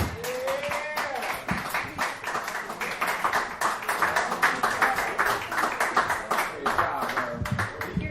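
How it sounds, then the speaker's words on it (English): Audience applause and clapping in a dive bar comedy show as a comedian finishes a set, a dense steady patter of many hands close by with a few voices mixed in. "Another round of applause for Mr. Smalls, Lexington."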